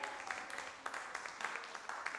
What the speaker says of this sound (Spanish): denle un aplauso fuerte, gracias Héctor.